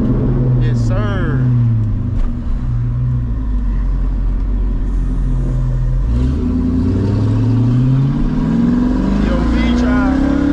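A straight-piped Chevrolet Corvette C6 engine roars very loudly and close while driving through the city, revving up and down through repeated rising and falling sweeps, with a constant deep rumble underneath.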